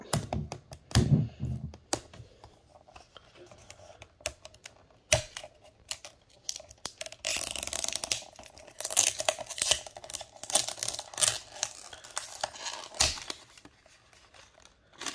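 The tear strip of a small plastic blind bag crinkles and rips open close up, with rustling, crackling handling noise over several seconds and no one talking.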